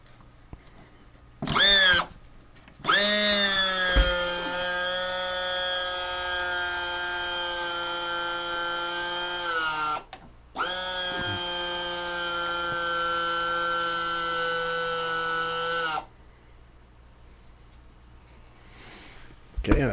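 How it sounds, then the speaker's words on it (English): Hydraulic landing gear on an aircraft installation test cycles in two long whining runs of pump and actuator, each several seconds with a steady pitch that dips at the start, preceded by a short burst and ending in quiet hum. "And here's the hydraulic gear."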